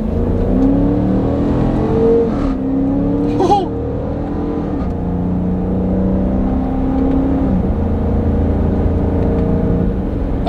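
A 2021 Dodge Durango R/T accelerates through paddle-shifted gears, the exhaust note climbing in loud, sustained pulls with audible shifts between them, heard from inside the vehicle without anyone speaking.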